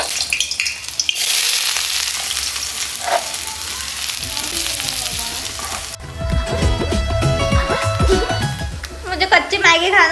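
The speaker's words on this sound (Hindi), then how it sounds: "तेल जो है वो गरम हो गया, अब मैं इस पे डालूंगी अपने प्याज" Chopped onions hit hot oil in a kadhai and sizzle loudly, a dense steady frying hiss that swells after the drop and carries on with stirring scrapes, with someone speaking over the cooking.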